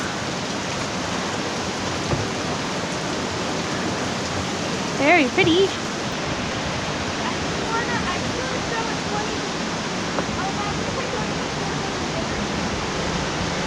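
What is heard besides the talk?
waterfall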